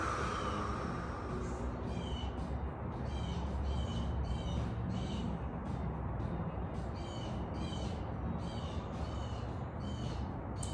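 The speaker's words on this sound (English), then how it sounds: "Birds are waking up." Crows and other birds call repeatedly at dawn, a steady run of harsh caws standing out over constant broad outdoor noise, with no talk.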